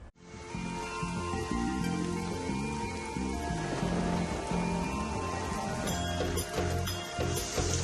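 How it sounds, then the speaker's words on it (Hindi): Heavy rain falling in Delhi NCR: a dense, constant hiss of downpour with pattering drops on surfaces, steady and loud throughout, with no voices. "दिल्ली एनसीआर में आज झमाझम बारिश ने मौसम को खुशगवार बना दिया।"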